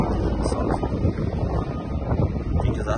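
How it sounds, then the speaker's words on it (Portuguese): Cold wind blowing outdoors, loud gusty buffeting across the microphone with constant rumbling turbulence and no pauses. "está un vento frío aquí"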